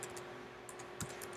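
Quick clicks of a computer keyboard as a menu label is typed while building a Java desktop menu in NetBeans, a short run of light keystrokes close by over a faint steady hum.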